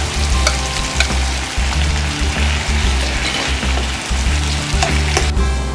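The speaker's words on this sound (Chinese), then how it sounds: "倒入蒜片儿， 倒入熟的虾仁儿，" Garlic slices and cooked shrimp fry in hot oil for a seafood dough-drop soup, a close, steady sizzle with repeated stirring scrapes and clinks.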